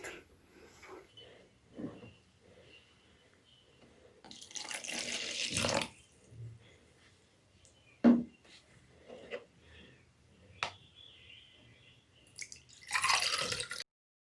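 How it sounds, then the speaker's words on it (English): Water is poured into a glass cup for a kids' science experiment, with bursts of splashing and trickling between quiet gaps and scattered drips, close and soft. "We put the water first, and then let's put the oil."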